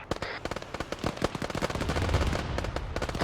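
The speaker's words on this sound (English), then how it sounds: "So, Airstrike just came in." An airstrike in Arma 3 lands as a dense, rapid series of sharp blasts and cracks. The explosions are loud and crowd closely together over a rumbling background, with no voices.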